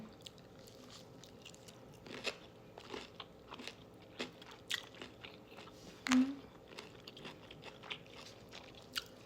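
Crunchy pickled shallots are bitten and chewed close to the mic, with irregular crisp crunches and wet squishes over several seconds and one sharper bite partway through.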